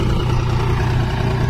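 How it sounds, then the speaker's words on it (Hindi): A John Deere 5036D tractor idles at a roadside stunt spot, its engine giving a steady, close, low rumble with no rise or fall and no voices over it. "ये देखिए रचिन भाई का ट्रैक्टर स्टंट किंग 5036D"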